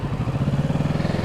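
A motorcycle engine with a dual throttle plate runs in a rapid pulsing idle-like rhythm, jerky on and off the throttle, close and fairly loud, with no talking.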